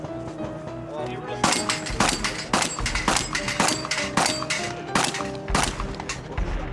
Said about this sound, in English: his shotgun runs as quick as it ever has in the daytime.